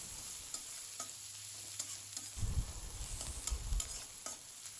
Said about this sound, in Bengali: ভালো করে পেস্টটা ভেজে নিয়ে এখন এই যে আদা রসুন দিয়ে দিচ্ছি।